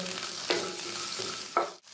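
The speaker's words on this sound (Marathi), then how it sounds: "आता त्याच कढईत मी हे कांदे भाजून घेते" Two small onions fry in a kadai with a continuous close sizzle, broken by a couple of brief stirring scrapes.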